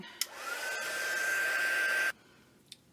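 A hair dryer blowing on wet Titan Buff acrylic paint in an art journal runs as a steady loud whoosh with a rising whine for about two seconds, then cuts off, with a small click before and after.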